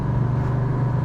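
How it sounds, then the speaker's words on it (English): A 1985 Oldsmobile Cutlass 442 engine pulls with a steady, loud low rumble from inside the car, holding an even drone throughout with no speech. "Car has good pickup."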